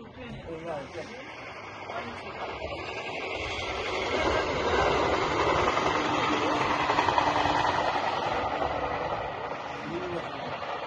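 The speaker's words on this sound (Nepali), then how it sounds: "ट्रेन" A train in Sukagawa, Fukushima, Japan, rumbles and hisses steadily, growing louder toward the middle and staying close, with faint clattering; voices are heard near the start.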